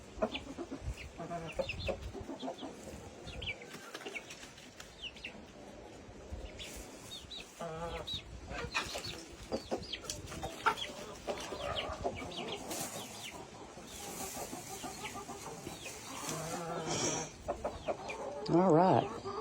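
Chickens cluck and fuss outdoors on a farm, including a young red chick, with bursts of bird calls scattered through a busy, continuous backdrop and some voices talking over them.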